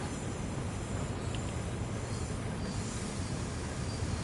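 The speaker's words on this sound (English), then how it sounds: "love listening to those brakes squealing like that as they're slowing the train down" Steady low rumble of a Class 43 passenger train in Train Sim World, with a thin high-pitched brake squeal drifting in and out above it.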